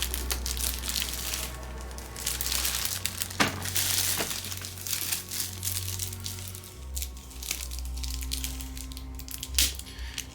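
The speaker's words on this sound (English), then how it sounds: "Let's take the plastic off." Plastic wrapping is crinkled and pulled off a boxed 1/6-scale Pumpkinhead collectible figure: a steady, close rustling and tearing with a few sharper crackles over a low background hum.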